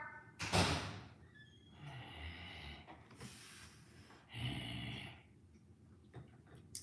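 A door thumps shut indoors with a sharp slam near the start, followed by softer rustling and a second thud; no talking.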